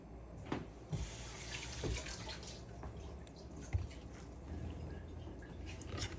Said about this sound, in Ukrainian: Якщо використовувати курочку, звичайно, ми її миємо під проточною водою.